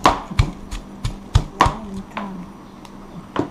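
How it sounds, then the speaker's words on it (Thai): Shallots and ground pepper are pounded in a mortar for a Thai spicy mixed vegetable soup. Heavy thuds land at an uneven pace, close and fairly loud. "เอามาตำคลุกกับ พริกไทยบดเมื่อกี้นะครับพริกไทย ตำให้แหลกกันไปข้างครับ"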